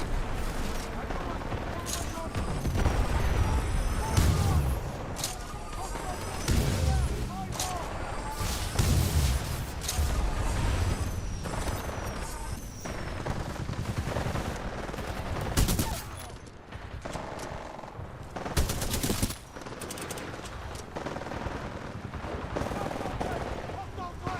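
Loud, dense gunfire rattles through a Titanfall 2 match in repeated bursts and heavy blasts, with occasional lulls between volleys.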